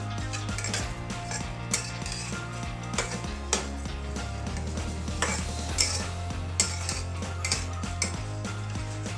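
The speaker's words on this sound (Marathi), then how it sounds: "मंद गॅसवरती आपण ती डाळ चांगली खरपूस अशी भाजून घ्यायची" A spoon scrapes and clinks against a kadhai as moong dal is stirred and roasted over low gas, a steady run of metallic scraping with sharp taps, alongside soft background music and no talk.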